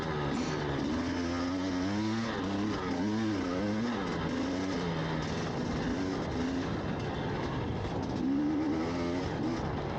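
Dirt bike on studded tires at a snowy enduro race, its engine revving hard and rising in pitch out of the start, loud and close with steady wind and track noise.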